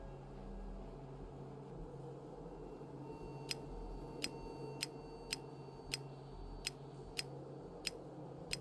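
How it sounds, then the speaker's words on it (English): A row of sharp, evenly spaced mechanical clicks in Hob's Barrow ticks about every half second over a low, quiet ambient hum, faint and close. "A clicking sound, but nothing happened."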